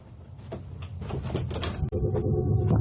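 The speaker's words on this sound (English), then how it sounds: "Close the door behind you." A door in a clinical corridor is pushed shut with a short sharp click midway through, surrounded by rustling and handling noises close by.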